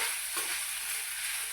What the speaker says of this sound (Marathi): तोच साबुदाणा मी कढईमध्ये घालून घेतला आहे